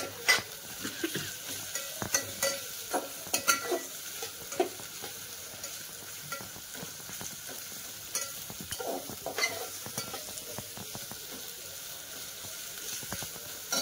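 Onions fry in a pan for Nilanga rice, a quiet steady sizzle broken by repeated clinks and scrapes of a spoon against the metal as they are stirred, close by with no voices.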